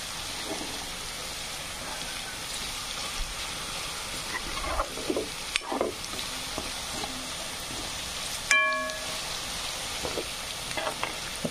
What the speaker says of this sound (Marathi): बऱ्यापैकी कांदा झालाय फ्राय आता।